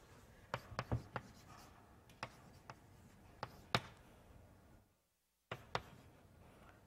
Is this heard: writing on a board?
yes